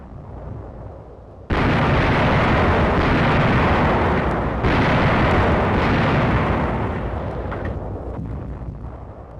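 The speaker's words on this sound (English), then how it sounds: "Enemy shellings are countered by our fire from Tank 75s" Artillery fire from 75mm tank guns near Massa in 1945 starts with a sudden loud blast, then a dense sustained roar of shelling with a second burst midway, fading slightly toward the end, no voices.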